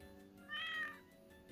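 Roblox game cat gives one clear meow in the middle, over quiet background music, followed by a brief louder sound at the very end.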